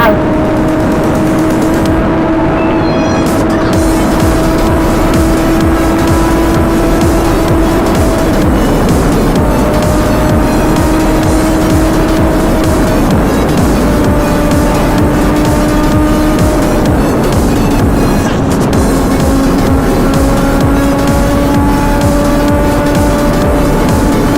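A Suzuki GSX-R1000R superbike engine roars loudly and steadily while being ridden, climbing in pitch through the gears with brief dips at each shift, close up and heavy with wind noise.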